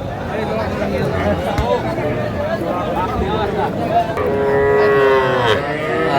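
Small bulls and heifers moo loudly at a farm in Gazipur, Bangladesh, amid a crowd's murmur and chatter, with one long drawn-out low near the end.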